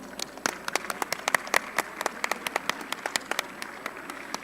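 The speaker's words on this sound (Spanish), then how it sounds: "les pido un aplauso para Yanel." Audience applause at a conference event, a steady patter of many hands clapping at moderate distance, continuing evenly for several seconds with no talk over it.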